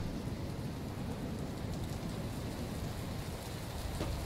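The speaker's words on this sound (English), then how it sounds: "It's raining!" Rain in the video game Outpost Zero, a dense steady hiss of falling drops with a low rumbling undertone, continuous and fairly quiet with no voices.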